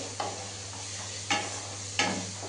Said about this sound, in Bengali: পেঁয়াজগুলো কিন্তু সুন্দর করে, দেখতে পাচ্ছ, লাল করে ভাজা হয়ে গেছে।